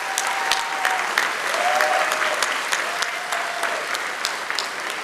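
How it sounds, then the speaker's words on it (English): A crowd at the Dewesoft MC2024 opening ceremony claps loudly and continuously, with a few sharper individual claps standing out from the close, even wash of applause. "Come on, crowd, one more applause for Gabriele and Dino."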